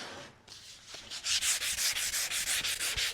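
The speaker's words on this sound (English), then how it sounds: "So I have a piece of sandpaper here. So we want to scuff both of these up." Hand scuffing with a sheet of 150-grit sandpaper on woodwork: a run of about a dozen steady, rhythmic rasping strokes, close and fairly loud, with no talking.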